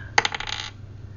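Dice are dropped and rolled across a hard surface in one short burst of rapid clattering that dies away within about half a second, close and fairly loud in a quiet room.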